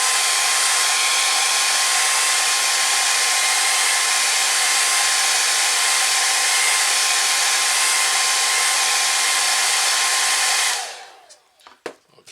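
A hair dryer blows steadily and loudly on wet paint for about ten seconds with a constant whooshing roar, then switches off, leaving a few faint clicks and handling knocks.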